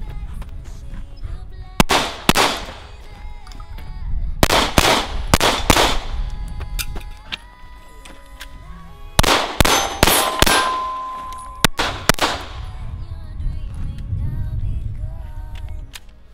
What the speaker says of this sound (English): Moving around a little bit, shooting multiple targets.